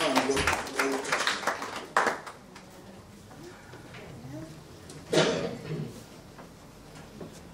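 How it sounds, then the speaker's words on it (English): A funeral service congregation claps hands in praise, bursts of scattered applause at the start and again midway, with a voice speaking faintly between them. "Come on and bless the Lord and give him another hand clap of praise"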